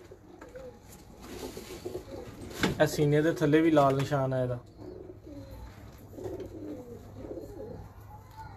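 Salara pigeons cooing in a breeder's loft, soft repeated coos near the microphone while someone talks over them for most of the clip, with a louder burst of close sound in the middle.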